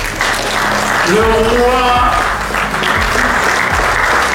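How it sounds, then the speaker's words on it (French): Audience applause at an award ceremony honoring a construction company director, a broad steady wash of clapping throughout with someone speaking over it through a loud hall. "je voudrais que vous vous levez pour applaudir Sa Majesté"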